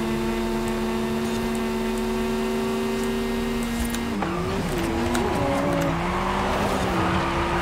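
A car in Forza Horizon 5 holds a steady engine drone, then slides into a drift with wavering engine pitch and tire squeal over a continuous loud roar.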